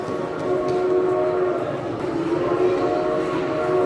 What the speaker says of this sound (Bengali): একটা ট্রেন আসতেছে মলের ভিতরে বাচ্চাদেরকে নিয়ে ঘোরার জন্য